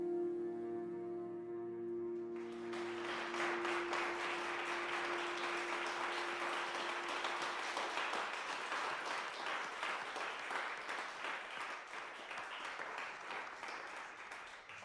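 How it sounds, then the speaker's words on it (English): Applause breaks out in a Security Council meeting, rising suddenly after a held tone and continuing as steady, dense clapping from many people in a large chamber, fading slightly toward the end. "they're clapping for a remarkable young woman"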